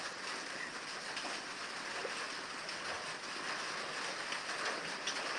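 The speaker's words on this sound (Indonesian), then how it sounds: "Mulai gerimis-gerimis nih." Light rain starts to drizzle outdoors, a steady, soft, even hiss that continues without pause, with no voices.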